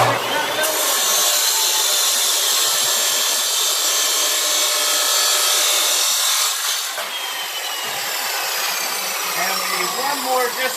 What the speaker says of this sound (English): We're going to lower the saw blade like this.